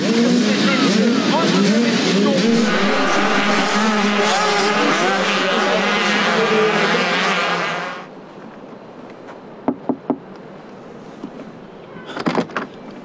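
Several 85cc motorbikes run on a sand race circuit, a dense loud buzzing of small two-stroke engines for about eight seconds, then cutting off to quiet with a few sharp knocks and clatters near the end.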